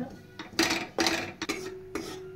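A utensil scrapes and clanks against a pan while flour is stirred into melted butter, in several short bursts with brief pauses between them.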